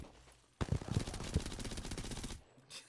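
Rapid automatic gunfire from a magazine dump in the video game Apex Legends, a dense burst of fast shots lasting under two seconds, close and loud, then cut off abruptly.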